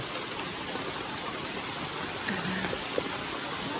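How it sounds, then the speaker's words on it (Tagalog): Steady rain hisses over the rushing water of the Dumacaa River, a constant wash of noise with an occasional faint drip or splash standing out. "Inabot kami ng ulan."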